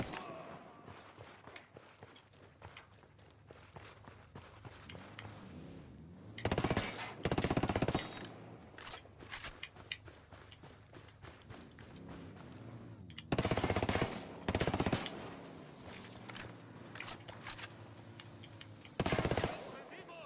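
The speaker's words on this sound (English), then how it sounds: "I was shooting the tires" Ghost Recon Wildlands video game gunfire aimed at vehicle tires comes in several sharp, loud bursts and rapid shots, spread across a quieter background of footsteps and movement.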